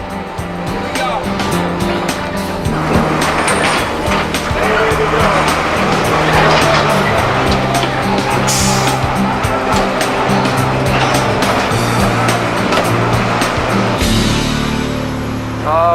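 A truck engine roars and revs hard, loud and close and without a break, as it strains to pull a crane stuck in mud, with tires spinning and a few shouted voices over the din.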